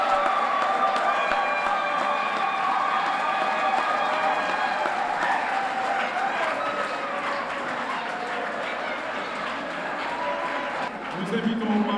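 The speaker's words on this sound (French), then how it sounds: "nous appelons sous vos applaudissements, standing ovation" A crowd at an awards ceremony applauds continuously as a prize is presented to a group, a busy wash of clapping mixed with sustained musical tones that carries on at a steady level.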